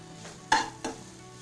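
Chicken sautéing in a pan, a low steady sizzle with two sharp scraping stirs of a utensil, no talking.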